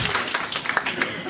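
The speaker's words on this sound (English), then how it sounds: "Can we have a round of applause for him?" Light, scattered clapping from a small audience at a Tibetan Buddhist teaching session, brief and soft with a voice faintly over it.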